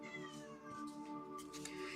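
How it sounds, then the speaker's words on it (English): A house cat meows in a room, a drawn-out wavering caterwaul that carries on for the whole stretch, fairly faint and close with no talk over it. "My cat's in here."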